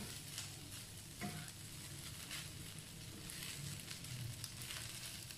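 Beef fried rice is stir-fried in a pan, giving a continuous close sizzle with scraping and tossing sounds from stirring throughout, and no talking.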